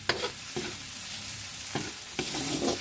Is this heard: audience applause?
no